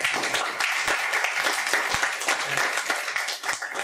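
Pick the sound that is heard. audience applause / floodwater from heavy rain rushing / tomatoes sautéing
audience applause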